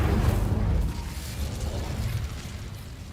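A fire spell cast in Hogwarts Legacy gives a deep, rumbling whoosh with a bursting low roar up front that eases after about a second into a steadier crackling rumble. No one speaks over it.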